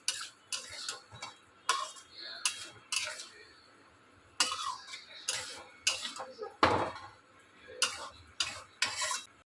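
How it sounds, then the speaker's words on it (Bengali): A spoon stirs a potato and pointed gourd curry in a pan after ghee is added, giving crisp clinks and scrapes in irregular bursts with a faint sizzle between them. "ঘিটা দিয়ে আবার নাড়াচাড়া করে দিতে হবে।"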